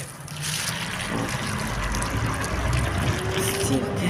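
Water pours steadily from a watering can onto garden bushes, a continuous gushing splash close by, while someone talks over it.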